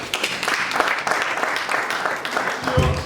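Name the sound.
audience applause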